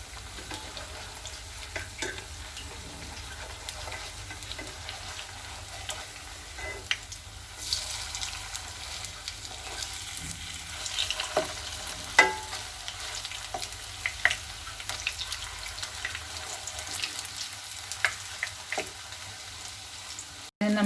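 Soya chunks frying in a pan, crackling and sizzling steadily at close range while a spatula scrapes and turns them, with scattered sharper pops and clinks throughout.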